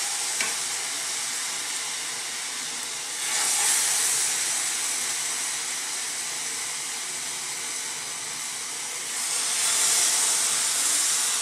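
Marinated tandoori chicken pieces sizzle steadily in a flat frying pan, a continuous crackling hiss that swells twice as more pieces drop in, with no talking.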